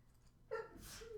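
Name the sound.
sneeze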